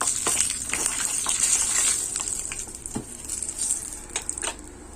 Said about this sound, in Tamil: கடுகு நல்லா பொரிஞ்சதும் காஞ்ச மிளகா சேர்த்துருக்கோம் நல்லா வதக்கி விட்டுக்கலாம்